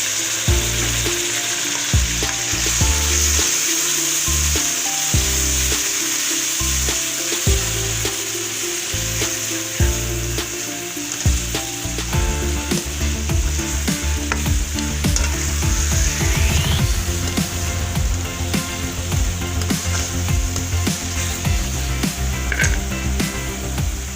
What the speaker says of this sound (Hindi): अब मैं टमाटर डाल रही हूँ।